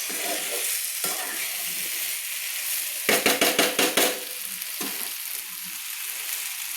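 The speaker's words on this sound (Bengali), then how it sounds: "সব সবজি আর মশলা কিন্তু আমি একসঙ্গে দেখুন কি সুন্দর করে কষিয়ে নিচ্ছি।" Vegetables and spices for a vegetarian pui mitchuri chorchori sizzle in a pan while being stirred, with a close, continuous fry hiss and a quick run of rhythmic spatula scrapes midway.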